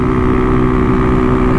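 Small motorcycle engine running steadily on a street, a continuous loud drone with a strong low hum and no voices.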